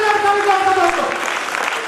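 A seminar audience at a healthy living event applauds, a brief burst of clapping sitting under a speaking voice.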